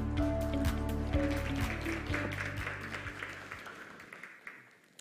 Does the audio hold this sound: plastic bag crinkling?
no